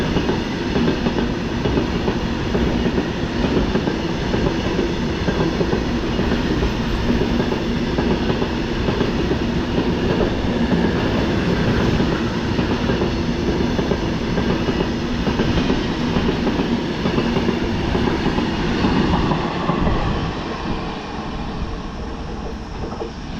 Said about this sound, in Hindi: जो आप ट्रेन की स्पीड इतनी स्लो देख रहे हैं